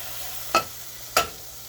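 A mac and cheese mixture is whisked in a pot, giving two short, sharp scraping strokes about half a second apart over a quiet background hum, with no talking.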